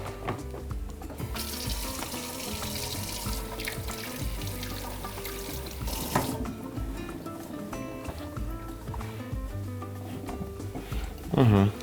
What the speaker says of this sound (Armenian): սառը ջրի տակ ողողում ենք